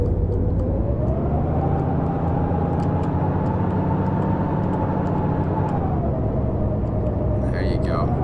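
A truck engine drones steadily in the DayZ video game, a low, loud rumble that rises slightly in pitch then eases back, continuous throughout with a short burst of other noise near the end.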